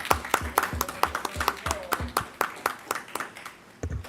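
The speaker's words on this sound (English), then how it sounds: "Yeah, let's clap it up." Applause at a town council meeting in Cheverly, Maryland: a brisk run of crisp, evenly spaced hand claps, close and fairly light, lasting about four seconds.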